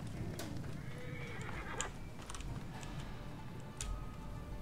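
A horse in Assassin's Creed Origins whinnies twice, sharp and mid-distance, with clip-clop hooves and a soft ticking under steady game ambience.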